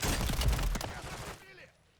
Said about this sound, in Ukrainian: Хтось хтось стріляє.